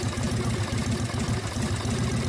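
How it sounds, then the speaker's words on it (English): A fully warmed-up Harley-Davidson engine fitted with an S&S carburetor idles steadily nearby, a loud, even, loping low-pitched throb with no talk. "with the engine fully warmed up and at idle"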